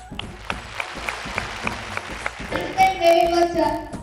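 Studio audience applause breaks out on a Telugu TV game show, a brief burst of clapping that swells and then gives way to bright musical stings, with the crowd fairly close.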